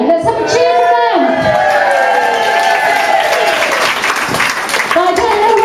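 A party crowd applauds and cheers for a group of guests, with clapping and whoops running under a loud voice that talks over the noise.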